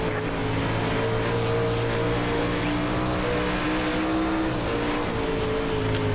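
Engine of a UMP modified dirt car in the iRacing sim at Volusia Speedway Park, a loud, steady droning roar with strong low harmonics throughout, rising with wheelspin as the tires break loose, no talk.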